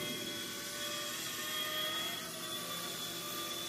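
An RC ERA BO-105 scale model helicopter flies close by, its electric motor and rotor giving a steady high-pitched whine with a constant buzzing hum that holds level throughout, with no voices.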